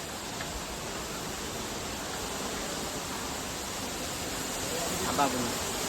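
A steady, full roar of rushing water from KP waterfalls in Khopoli, Sahyadri hills, fills the whole stretch, broad and constant, with no clear breaks.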